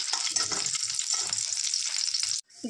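Grated carrots fry in ghee for carrot halwa, giving a loud, continuous close sizzle with soft stirring scrapes, ending in a brief pause and a sharp clatter.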